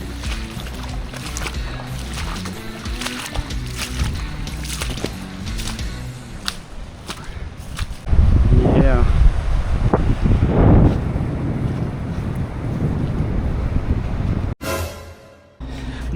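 On a beach in Colombia, gusting wind buffets the microphone over a rolling wash of surf. It stays loud and rough throughout, with a stronger surge partway through and a brief dropout near the end.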